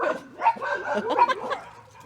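Dogs bark and yip in short bursts close by, mixed with whimpering, the barks loud and irregular across the whole stretch.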